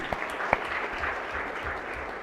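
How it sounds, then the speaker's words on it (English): Applause fills a state senate chamber during a floor session, a steady wash of clapping from many people with one sharp clap standing out near the start. "yes, another round of applause, agreed."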